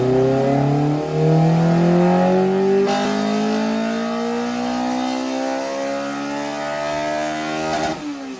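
A radio-controlled Honda Civic with a brushless motor and Hobbywing Max 10 G2 speed controller produces a synthetic VTEC-style engine note, a loud, continuous revving whine that climbs steadily in pitch with no talking.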